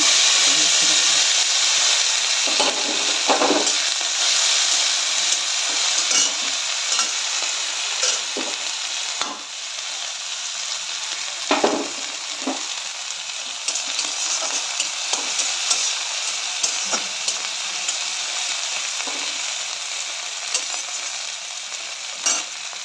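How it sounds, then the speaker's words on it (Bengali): Dried shrimp sizzles steadily in a pan with mustard seeds, a continuous hiss broken by repeated scraping stir strokes, close and loud throughout. "চিংড়ি মাছটা ভাজা ভাজা হয়ে এসছে।"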